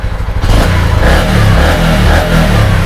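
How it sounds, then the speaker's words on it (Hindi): A motorcycle engine revs steadily with a rhythmic, even combustion beat, held up close and loud for a few seconds as the throttle is worked, with some mechanical clatter underneath. "और से उसी टाइम इसका थ्रॉटल रिस्पॉन्स चेक कर लेंगे।"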